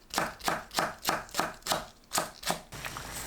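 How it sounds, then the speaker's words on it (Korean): Green onions are chopped small with a knife on a cutting board, a steady run of eight crisp, close knocks at an even quick rhythm, with no talking. "파를 작게 썰어줍니다."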